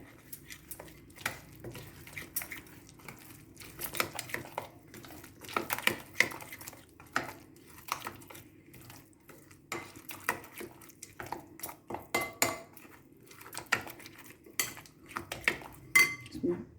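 Paneer tikka marinade with Kashmiri chilli and lemon juice being mixed in a bowl, a spoon clinking and scraping against the dish in irregular, close taps over a quiet background.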